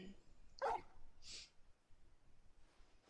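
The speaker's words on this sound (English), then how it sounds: "I miss when my dog was a puppy." A dog companion in a video game gives a single short bark followed by a faint yip, quiet and brief against low game ambience.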